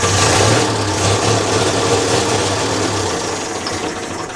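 A 1932 Morris Minor engine runs with a loud, uneven chugging rumble that gradually fades as it cuts out despite throttle.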